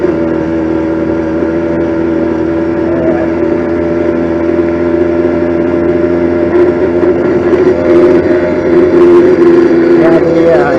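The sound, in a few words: motorized bicycle with stock 50cc four-stroke engine riding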